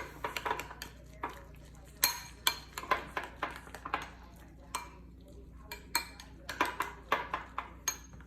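A spoon stirs oatmeal with cinnamon in a bowl, making a run of irregular clinks and scrapes, some in quick clusters and some spaced apart, close and moderately loud.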